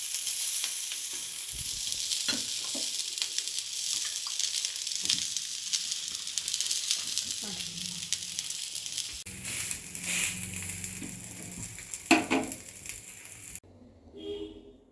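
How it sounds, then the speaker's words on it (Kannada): Thalipeeth made from leftover rice fries in oil on a pan, with a loud, continuous close sizzle and a few scraping touches before it cuts off near the end. "ಇದಕ್ಕೆ ಎಣ್ಣೆ ಹಚ್ಚಿ ನಾನು ಫ್ರೈ ಮಾಡಿ ಬೇಯಿಸ್ತಾ ಇದ್ದೀನಿ"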